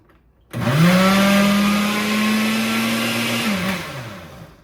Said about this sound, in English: Let me blend this baby up so it don't be all chalky.